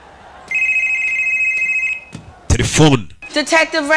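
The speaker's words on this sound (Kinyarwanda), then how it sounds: "Telefone." A telephone rings with a steady electronic trill for about a second and a half, loud and close, in a drama scene. Voices then break in.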